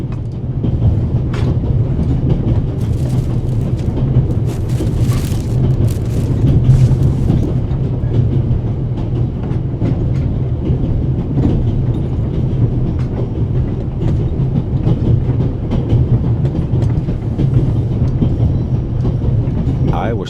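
Train from the video game The Raven Remastered rolling along the rails, a steady loud rumble with soft clickety-clack and occasional squeaks running throughout.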